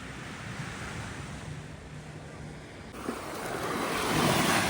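Sea waves washing onto a beach along a first-line hotel shore in Antalya, Turkey, a steady broadband surf roar with wind buffeting the microphone, swelling louder toward the end.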